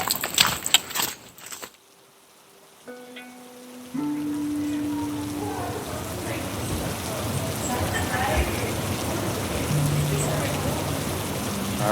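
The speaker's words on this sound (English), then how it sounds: "still raining, probably gonna rain most of the day" Steady rain patters on a New Zealand forest trail during a hike, a soft continuous hiss that follows a brief burst of clattering handling noise and a few faint tones, with no voices.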